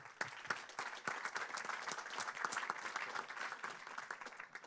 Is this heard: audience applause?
yes